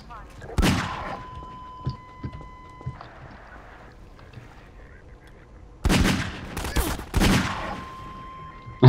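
Several loud sharp gunshot bursts from the video game Half-Life 2 (Synergy co-op mod), separated by quieter stretches of beeps, a low electronic tone and faint background game noise.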